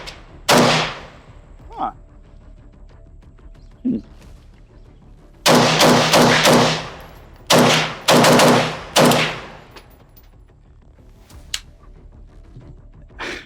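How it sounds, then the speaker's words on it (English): Gunfire from a 16-inch 5.56 AK rifle fitted with a muzzle brake, loud sharp reports in separate shots and quick bursts, several close together in the middle, with quiet pauses between and a brief word spoken. "Let's see if we get a lot of flash shooting it out of 16-inch AK"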